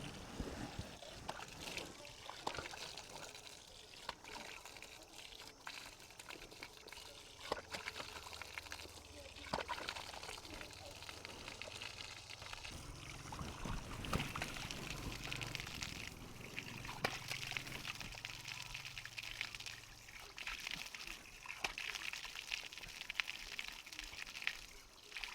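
Tap water runs steadily over a person's head and face, washed under an outdoor tap on a farm during a power cut, with splashes and trickles throughout at moderate, close volume.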